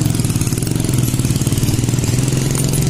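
A carburetted Honda Beat scooter engine running steadily right after being started, a close, loud, even idle with a fast regular pulsing throb and no talk over it.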